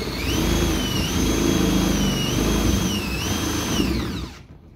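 Power drill running in a drill guide base, a steady whining motor tone whose pitch dips and rises as it loads, then winds down and stops near the end.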